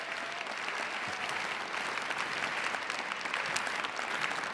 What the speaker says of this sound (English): If you could give Ed, Phil, Luis, and Angel a big round of applause.